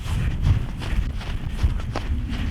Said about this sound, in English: This is me running amongst the geese.